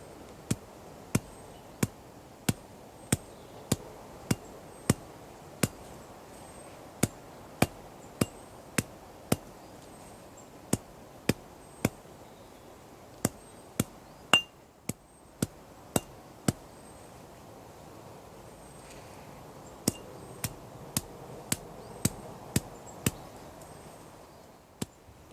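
An axe head dropped under its own weight onto pieces of horse hoof fungus (amadou tinder) resting on a rock, giving sharp, isolated thuds at a steady, unhurried rhythm, about one per second, with a brief pause midway, close and clear over quiet outdoor background.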